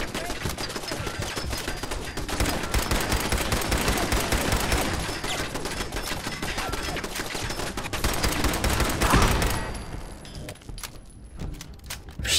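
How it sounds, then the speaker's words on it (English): Dense gunfire in Fallout 4 rattles in rapid bursts of sharp shots, loud and close for most of the stretch before dropping to a few scattered cracks near the end. "I'm going to need to use a real gun for this shit"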